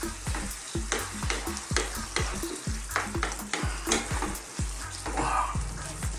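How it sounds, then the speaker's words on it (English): Lasagna meat sauce mixed in a sizzling pan, with a strong continuous sizzle and rhythmic scraping and knocking of a utensil against the pan about twice per second, close and loud. "Let's give this a nice good mix."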